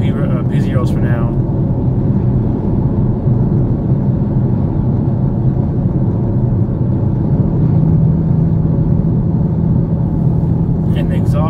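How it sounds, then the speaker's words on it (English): A 2014 Chevrolet Camaro RS with an aftermarket exhaust rumbles steadily and close by, a deep continuous drone that holds at one level throughout, with brief bits of talk at the start and end. "The exhaust on this one sounds pretty good, I think."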